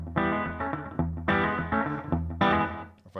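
Electric guitar played through a single rockabilly-style repeat delay with reverb switched off, a driven, slightly distorted tone; short chordal phrases at a steady level, each followed by one clear slapback echo, with no voices.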